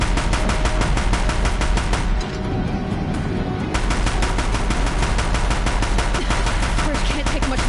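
Heavy rapid-fire gunfire at a bridge in the action game Horizon Zero Dawn, a loud, relentless stream of shots with a short muffled break midway before firing resumes.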